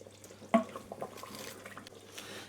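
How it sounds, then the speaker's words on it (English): A spoon stirs a lamb kofta meatball curry in a pot, making soft wet sloshes and a brief clack near the start, quiet and close. "stir it properly, and all blend"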